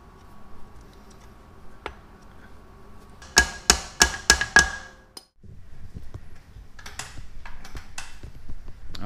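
Five sharp metallic hammer taps in quick succession, close and loud, tapping a cap into place during a Mitsubishi Evo X clutch install, followed by quieter shuffling and clinking.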